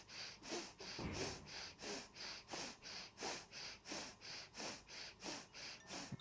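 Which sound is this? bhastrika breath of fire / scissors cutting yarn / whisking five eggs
bhastrika breath of fire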